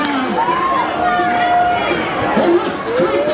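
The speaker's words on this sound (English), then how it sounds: "Sold out crowd here tonight." Sold-out crowd at a minor-league baseball stadium on opening day, a continuous loud wash of chatter and cheering with whistles and shouts rising over it.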